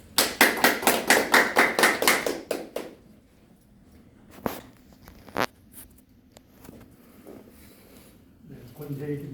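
Audience at a Korean-language cultural gathering gives a burst of loud, rhythmic, evenly spaced clapping for about three seconds, then falls quiet with a few isolated taps and faint murmurs.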